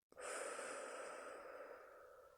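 A long, steady exhalation of breath during a relaxation exercise, released after a facial-muscle tension phase, soft and close, fading gradually over about two seconds with no talk.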